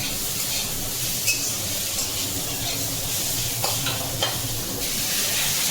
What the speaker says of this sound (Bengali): এখানে অলরেডি আলু ভাজা চলছে।